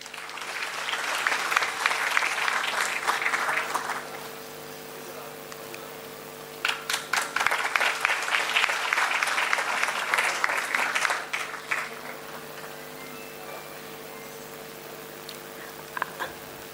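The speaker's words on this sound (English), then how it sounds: "A round of applause for him." Audience applause at an international conference on intelligent and sustainable innovation, two bursts of clapping in a hall, the first fading around four seconds and the second running from about seven to twelve seconds, with brief scattered claps near the end.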